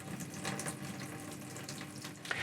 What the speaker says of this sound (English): this van has an electric hot water system which just heats the water